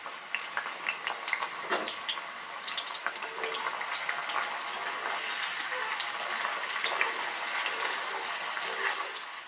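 Vegetables for a vegetable biryani deep-fry in hot oil, a continuous close bubbling sizzle and hiss with small crackles throughout.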